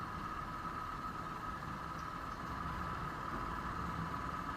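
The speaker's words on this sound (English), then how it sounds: "the bike is pulling like crazy, and I'm not at all feeling any kind of lag in the acceleration of the bike" A motorcycle carrying a pillion rider hums along on the move, its engine a steady, unbroken drone with no pauses.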